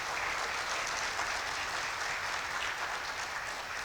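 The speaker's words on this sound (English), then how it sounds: "can we please have one more round of applause for our state rep" Steady, dense audience applause for state representative Sergio Munoz at a legislative update event, continuous and fairly loud throughout without pause or voices.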